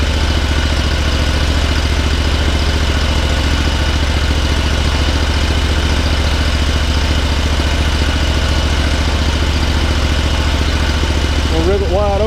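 A Kawasaki FX1000V V-twin engine on a John Deere 960M mower runs at a steady, loud, close idle with a constant low throbbing drone and no change in pace.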